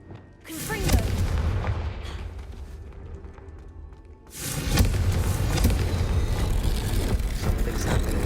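A Confringo fire spell from the Hogwarts Legacy video game bursts with a loud, booming blast, followed by a rumbling roar that stays loud, then a second heavy explosive surge.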